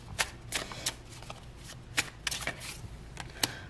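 Tarot cards are shuffled close by, heard as repeated crisp riffles and slaps of the deck in irregular bursts, with no voice over them.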